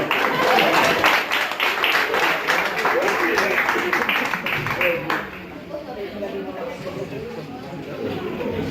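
Audience applause at a hypnosis show at a lakeside campsite, dense clapping that holds for about five seconds and then thins into scattered claps and chatter.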